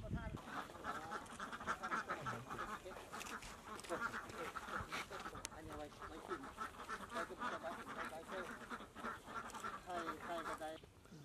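Ducks on a farm that also keeps pigs, chickens and fish quack in a dense, continuous chorus of many birds close by, with people talking underneath.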